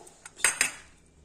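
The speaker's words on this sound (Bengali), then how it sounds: "এই কলাই ডালের বড়িটা সেঁকে নেব, তেলে ভাজবো না" Kalai dal bori (lentil dumplings) being dry-roasted in a wok, heard as a few quick, close metallic clinks of a utensil against the pan in a quiet kitchen.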